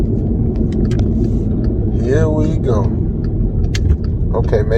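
Steady road traffic rumbles on an Atlanta street, a low continuous engine drone from passing cars with a voice talking briefly over it.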